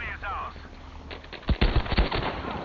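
Video game gunfire in the Fjell map with the RSC, heard as a close cluster of sharp rapid shots in the second half after a quieter start with a voice briefly audible.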